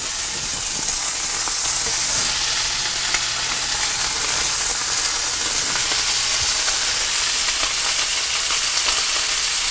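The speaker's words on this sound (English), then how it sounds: "I'm going to toss a couple of strips of this in this pan and get it going." Strips of homemade smoked bacon frying in a pan give a steady, dense sizzle and crackle throughout, with fine popping spatters and a low hum underneath, no voices.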